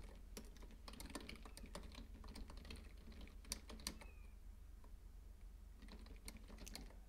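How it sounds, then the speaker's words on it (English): Rapid typing on a computer keyboard, close and fairly loud, in clustered bursts of key clicks with short pauses between them and no talking. "let me type it for a second."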